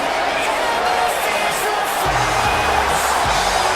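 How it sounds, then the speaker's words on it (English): Arena crowd cheering in the WWE 2K19 wrestling video game during a WCW Monday Nitro show: a steady, dense roar throughout, with low rumbling thumps in the second half. "The crowd loves her. Crowd's into it."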